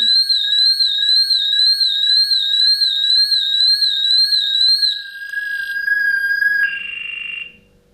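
A loud electronic Somfy home alarm siren warbles rapidly and continuously, then shifts to steady tones and beeps before cutting off.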